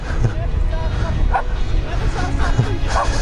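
Dogs yip and bark intermittently against a steady background rumble of city riding on a Honda CBR650F motorcycle, the short barks moderately loud and irregular.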